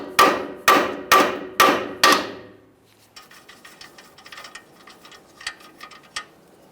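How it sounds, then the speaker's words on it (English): Five sharp, evenly spaced hammer blows ring out close and loud as a tie rod end is tapped free from the steering knuckle of a 2015-2020 Ford F-150, followed by softer clinks and handling noises. "we'll start lightly tapping on this area,"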